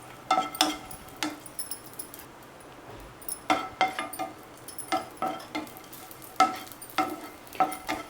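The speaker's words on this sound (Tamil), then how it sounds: "திராட்சையும் சேர்த்து அந்த மாதிரி வறுத்து எடுத்துடலாம்." Raisins frying in ghee in a pan for sweet pongal, a soft continuous sizzle broken by repeated clinks and scrapes of a spoon stirring against the metal, fairly quiet and close with no one talking.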